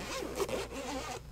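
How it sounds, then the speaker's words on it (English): A zipper on a padded case for an Irwin bi-metal hole saw kit is pulled open in one continuous run with small ratcheting bursts, close and fairly quiet. "So let's do a tour of the kit itself, and a padded zipper case"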